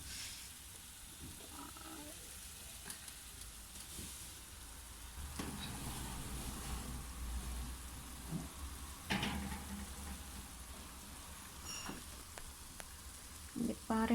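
Chicken and vegetables for an oven chicken dish sizzle in a pan as they are stirred, a steady frying hiss with occasional scraping and clatter, close and fairly quiet, with no talking.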